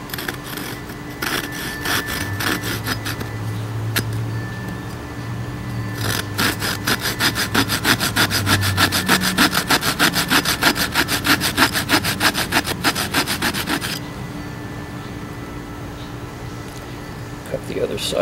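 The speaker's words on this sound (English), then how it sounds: "this little fine-tooth saw works perfect for making these notches" A small fine-tooth hand saw cuts a notch in California buckeye wood, giving steady rhythmic back-and-forth rasping strokes that speed up and grow louder mid-way before easing off, with a low voice briefly heard early on.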